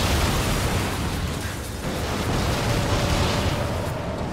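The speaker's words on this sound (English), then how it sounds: "It's like a grenade launcher." Grenade launcher rounds in Darksiders 2 go off in a dense, loud wash of explosions, rumbling blasts overlapping continuously with a brief dip midway before the barrage swells again.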